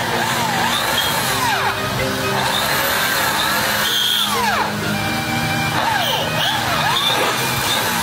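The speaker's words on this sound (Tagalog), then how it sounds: "drill a hole here and let's go" A power drill bores a hole in a part on a Honda PCX 160 scooter during a fuel-injection to carburettor conversion, whining loudly and continuously with repeated rising and falling pitch sweeps as the bit speeds up and bites.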